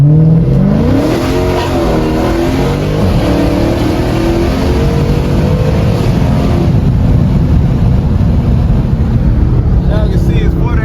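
A Dodge Challenger 392 with a Hellcat air box accelerates hard on a cold night, its V8 revving loud and close through rising gear pulls, with wind buffeting the microphone and people talking over it.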